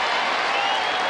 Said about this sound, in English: And Prince gets a standing ovation as he walks off.